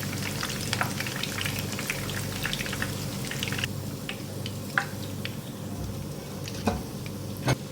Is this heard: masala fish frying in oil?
yes